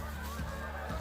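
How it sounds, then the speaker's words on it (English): Migrating geese heading south honk in a brief, continuous burst of nasal calls, loud and clear with no talking. "And the geese are still migrating south."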